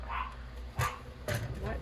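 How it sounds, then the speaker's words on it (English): A pet dog barks a couple of short sharp times nearby indoors, over low background room noise. "Oh goodness, she's just barking."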